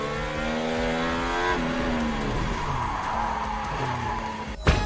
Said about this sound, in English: Valtteri Bottas in an Alfa Romeo, spinning out under the safety car